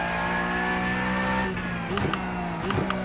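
Racing-simulator car engine droning steadily at high revs through a continuous harmonic whine, then shifting as throttle is applied, with brief rising surges near the end as the car accelerates out of a corner.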